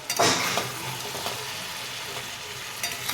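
Chicken and cauliflower sizzle in oil over an open flame while a utensil stirs and scrapes the pan, with a bright burst of frying noise at the start that settles into a steady sizzle.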